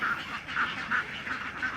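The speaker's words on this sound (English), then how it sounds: "These are the ducks we bought." Farm ducks in the Philippines quack in a quick run of five nasal calls, close and clear over a soft background hiss.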